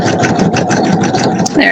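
Sewing machine stitching a quilted table runner, a steady rapid mechanical chatter running continuously and close up, with a brief pause near the end before resuming.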